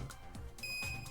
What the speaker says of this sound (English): His Brokyon's alarm immediately started beeping.